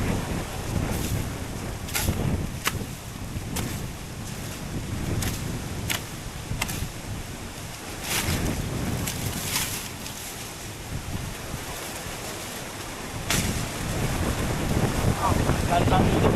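Strong wind blows outdoors among banana plants ahead of an approaching typhoon, a continuous rushing roar with gusts and sharp rustling snaps, while voices talk intermittently.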